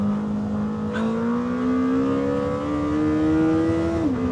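A Lamborghini Temerario engine revs high toward 10,000 rpm, climbing steadily in pitch, a loud continuous whine rising until it drops off with a gear change.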